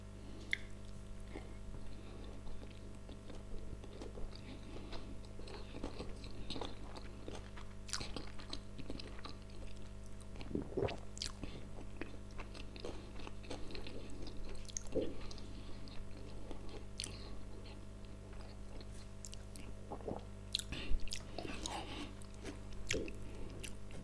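Close, quiet chewing and biting of sushi rolls and gunkan with Norwegian salmon, soft wet squishes and occasional crunchy bites recurring irregularly over a low steady background hum, with no talking.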